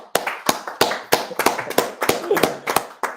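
Sharp, close hand claps in an irregular rhythm, about a dozen distinct slaps over a few seconds, with faint voice sounds between them.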